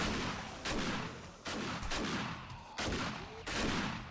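Heavy gunfire in 7 Days to Die, several loud separate shots about a second apart, each one booming and then ringing out, with no talk over them.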